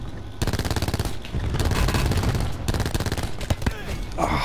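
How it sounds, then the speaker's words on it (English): A sniper rifle fires in Call of Duty: Black Ops 4 amid dense, rapid game gunfire. Loud, repeated shots burst in near-continuous volleys with brief gaps. "That sniper shot though"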